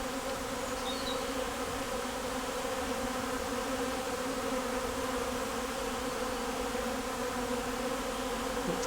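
A small honey bee swarm from the smaller of two hives drones in a steady, dense buzz that holds for the full stretch, loud and continuous with a constant hum and no voices.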